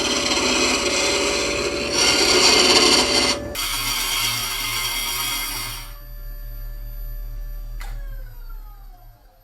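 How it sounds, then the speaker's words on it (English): A steel gouge cuts wood on a lathe, a loud continuous scraping rasp that roughens and swells, then drops away to the low hum of the spinning machine as the cut ends. "When using the gouge, you want to rock it from one side to the other"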